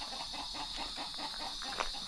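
Chickens clucking around a rural farm in the Philippine countryside at dawn, a steady murmur of fowl calls with a brief louder call near the end, all under a constant background hiss.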